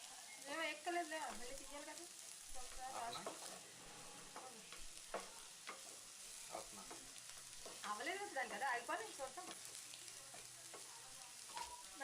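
Potatoes frying with chilli powder in a pan, a quiet sizzle with irregular scraping and stirring strokes, some louder bursts of clatter, and a faint voice now and then.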